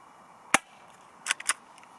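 An ASG CZ75 SP-01 Shadow airsoft pistol firing, a single sharp close snap followed shortly by two more quick shots, with no talk during the shots.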